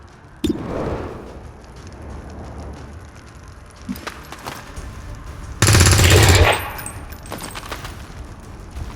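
Gunfire in the video game XCOM 2: War of the Chosen, a sharp shot early, then scattered impacts and a loud sustained burst of automatic fire near the middle, with faint background clatter.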